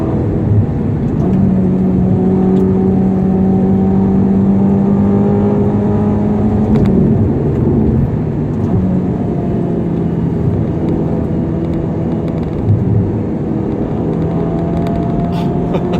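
A Ferrari GTC4 Lusso T engine hums steadily from inside the cabin, its pitch rising and falling as it shifts through gears under constant road noise.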